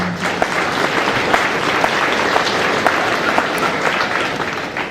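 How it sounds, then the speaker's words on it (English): Applause for exhibitors at the 2012 Midwest Spring National Holstein Show, a steady, dense clapping from an indoor crowd that holds at even loudness throughout, with a few sharper claps standing out and no talking. "Let's give these exhibitors a round of applause."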